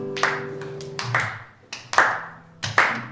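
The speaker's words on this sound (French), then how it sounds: "Et on va applaudir avec le rythme." An audience claps together in a slow steady rhythm at a guitar music session, four sharp group claps spaced evenly, fairly close and clear with no talking.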